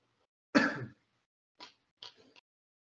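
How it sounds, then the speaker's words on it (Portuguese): A single throat-clearing cough, close and fairly loud, during a lecture, followed by a couple of softer short throat noises after a pause. "Eu vou aproveitar e tossir"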